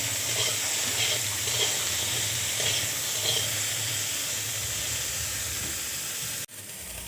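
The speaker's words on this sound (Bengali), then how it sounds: "বেগুনটা লাল করে ভেজে নেব।" Brinjal slices browning in hot oil in a home kitchen give off a steady, dense sizzle, close and even throughout, with a brief dip near the end; no talking.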